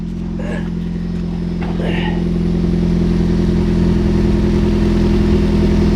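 A Nissan Sentra running with a 350Z exhaust installed, a loud steady low idle drone that swells slightly, with brief speech over it early on.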